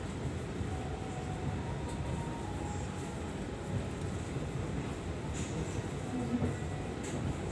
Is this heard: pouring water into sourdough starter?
no